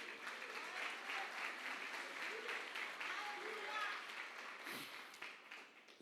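A church congregation applauds in praise during a Portuguese-language sermon, dense sustained clapping filling the room for several seconds with a brief vocal shout near the end.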